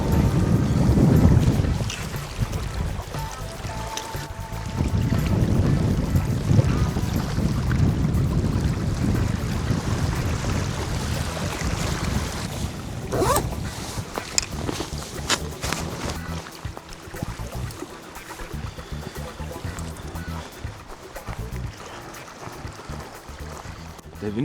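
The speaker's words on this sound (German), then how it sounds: "Der Wind pfeift ordentlich" Strong gusts of wind rush and buffet the microphone continuously beside a lake in winter at about 1°C, a rough roaring hiss with occasional splashy water sounds underneath.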